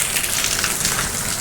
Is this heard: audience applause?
no